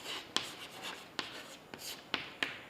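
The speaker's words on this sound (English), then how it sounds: "So first write the given data." Pen strokes writing out given values for a maths problem on a geometric progression, heard as several sharp taps and short scratches at a steady, sparse pace, close and fairly quiet.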